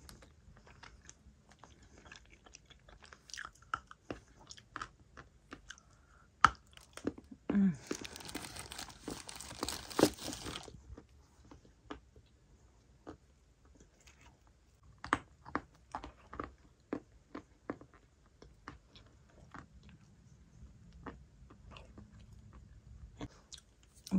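Someone chews and bites into a Petropavlovka treat, with close, moist chewing and crunchy bites, scattered crinkling of packaging in the middle, and occasional soft sounds between bites.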